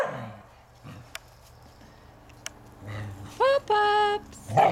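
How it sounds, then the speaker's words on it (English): Dogs bark outdoors, a few short scattered yips early on, then two loud, close barks near the end, with quiet background between them. "Okay, Shady, don't bark in the camera, please"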